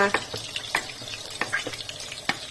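Chili sauce for fish is stirred in a pot with repeated scraping clinks of a utensil against the pot over a steady bubbling sizzle, close and even in rhythm.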